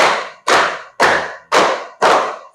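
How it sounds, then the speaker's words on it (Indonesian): A class claps in unison for a counting rhythm game, five loud, full group claps spaced about half a second apart, each ringing briefly in the room. "Tepuk 5."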